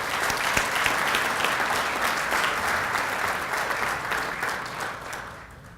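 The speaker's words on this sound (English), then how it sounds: "Let's have a final round of applause for these public-private partnerships" Audience at a regional awards ceremony clapping, a dense sustained round of applause from a large crowd that holds steady and then gradually thins out toward the end.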